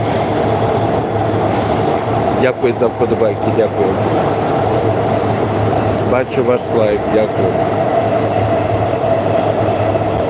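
Metro cars brought from Warsaw rumble through an underground station with a steady loud hum and bursts of rhythmic wheel clatter, while someone talks over the noise.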